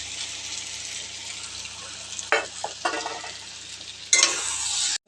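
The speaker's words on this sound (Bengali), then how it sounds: "আমি যে আলু আর বেগুনটা ভেজে রেখেছিলাম আমি এই মশলার মধ্যে দিয়ে দেবো দিয়ে ভালো করে কষবো" Fried potato and eggplant sizzling steadily in a pan of cooked spice masala while a spoon stirs, with a few louder scraping bursts over the continuous frying hiss.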